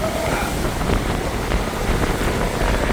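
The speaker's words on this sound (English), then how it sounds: "It's windy out here. Very windy." Steady, heavy wind roars and buffets outdoors in Falmouth, Jamaica, for the full length, a constant broadband rush with no voices.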